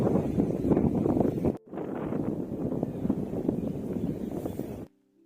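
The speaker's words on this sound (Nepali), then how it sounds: "खतरा हावा चल्यो" Strong wind buffets the microphone in a loud, steady roar with gusty fluctuations at Aapgachi, Dhankuta, Nepal, briefly cutting out once before stopping near the end.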